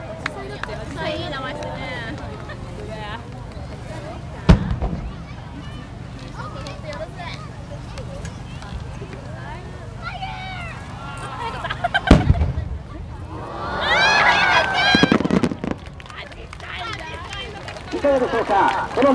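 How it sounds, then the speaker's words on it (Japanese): Marugo's fireworks display at the Kamakura Fireworks Festival, with sharp distant bursts and crackle rising over the crowd and an announcer talking, including a loud booming pair near the middle and a dense crackling flurry toward the end. "今日はこの丸号の花火でこの後も盛り上がっていきましょう"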